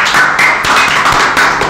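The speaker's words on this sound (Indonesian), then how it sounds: "Oke, aplaus untuk jaga malam." A group claps for a school night guard, a dense, steady patter of hands at close range that carries on through the whole stretch with no voices over it.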